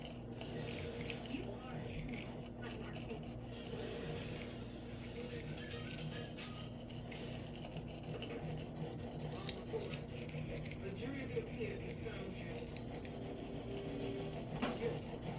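Steel knife blade scraped back and forth across a cheap Chinese whetstone, a steady gritty rasping and rubbing that repeats without pause, close and fairly quiet, with a low constant hum underneath and talk weaving through.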